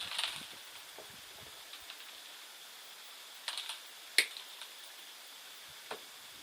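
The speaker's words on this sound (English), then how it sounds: "Cut the wires off first." Cutters snip training wires off a willow bonsai before repotting. A few faint clicks lead up to one sharp, close snap, then a couple of scattered small ticks.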